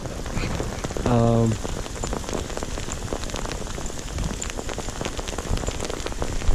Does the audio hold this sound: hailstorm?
yes